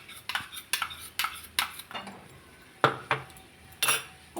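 A utensil scrapes and clinks against a pan while beetroot pickle is stirred, a series of sharp irregular knocks and scrapes, close and fairly quiet, with no talking.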